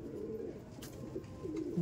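Pigeon cooing at close range, a steady low murmuring coo running throughout with soft swells, from a female pigeon being shown up close.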